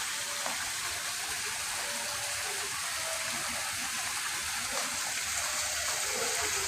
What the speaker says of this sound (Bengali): ঝর্ণার অঝরধারায় পানি পড়তেছে এবং সুন্দর সুন্দর ফুল দিয়ে সাজানো ঝর্ণার চারপাশটা